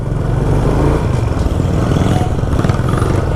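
Secondhand Kawasaki Bajaj CT100 motorcycle engine running steadily nearby, a loud continuous low putter with a slight rattle and no clear revving.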